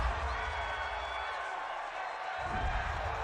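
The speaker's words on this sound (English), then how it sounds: "Well, this crowd does not like that call." A packed football stadium crowd at a New England Patriots versus Cincinnati Bengals game, reacting to a roughing-the-passer penalty with a broad, sustained roar that dips briefly and then swells again.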